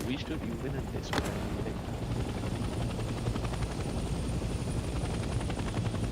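Helicopter from the Vietnam-era shooter Hell Let Loose Vietnam, a steady rotor thump circling through a noisy battle soundscape, continuous and fairly loud with a brief sharp crack early on.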